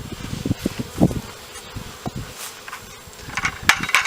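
Honey bees buzz around a sugar-syrup feeder set on level hives, with scattered close passes and faint rustling and clicks, with no talking.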